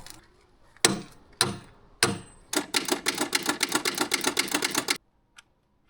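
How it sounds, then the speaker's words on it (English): A Detroit Diesel 6-71 starter motor, bypassing the solenoid and shorted with a screwdriver, gives three sharp separate bursts, then a fast rhythmic run of loud clattering pulses that stops abruptly, close and without talk. "taking the screwdriver, shorting it across the hot lead and the actual inlet to the starter motor and bypassing the solenoid completely"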